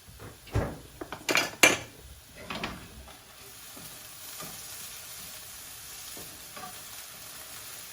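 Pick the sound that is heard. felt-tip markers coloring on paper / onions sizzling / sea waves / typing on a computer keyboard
onions sizzling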